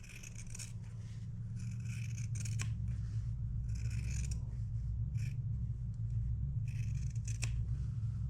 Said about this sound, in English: Now I'm going to cut down this line I drew.